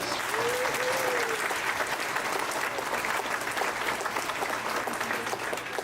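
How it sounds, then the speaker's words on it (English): At a fifth grade orchestra and band fall concert, the audience gives teachers a sustained, even round of applause, a dense steady clapping roar that holds at constant loudness from start to finish. "let's please give them a special round of applause"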